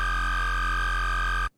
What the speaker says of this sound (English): Let's go bass house, cell phone bass.